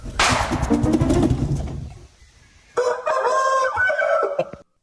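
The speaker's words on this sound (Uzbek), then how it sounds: "Qarayinchi, kimniki ekan bu xo'roz?" A rooster crows loudly and close by, two full calls separated by a brief pause, with no voices over it.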